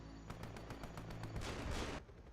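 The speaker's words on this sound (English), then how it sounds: "This is a lot of shooting." Rapid rhythmic bursts of gunfire from units in the game AirMech, dense and continuous volleys that swell into a heavier barrage before cutting off.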